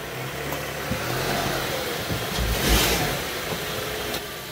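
A Honda Element drives up onto Pittsburgh ramps, its engine running steadily at low revs with a slight swell in effort midway, close and continuous with no talking.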